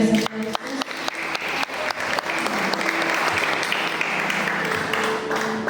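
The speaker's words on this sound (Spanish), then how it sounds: "La recibimos con fuertes aplausos." Loud applause fills a hall at a school essay and speech contest as the second-place winner comes up, dense steady clapping throughout with a faint voice or two early on.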